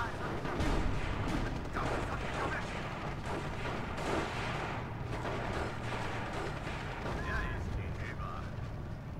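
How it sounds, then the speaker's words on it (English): Heavy artillery fire in the Steel Division 2 multiplayer WWII strategy game: a continuous rumbling barrage of distant booms and crackling gunfire, steady and dense throughout, with a voice talking over it. "I think I've also brought up a heavy artillery"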